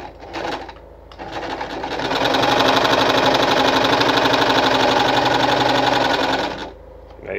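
A Victoria Nuzstitch ZZ-570 sewing machine stitches a buttonhole: a couple of short motor bursts, then a loud, steady, fast needle clatter that runs for several seconds and stops abruptly.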